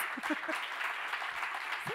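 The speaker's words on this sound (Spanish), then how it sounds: "les voy a pedir que aplaudan muy, muy fuerte a Martín Sancia Kawamichi" Applause from an audience at a Spanish-language literary event for Martín Sancia Kawamichi, a steady wash of clapping with a few voices calling out briefly over it, moderately faint.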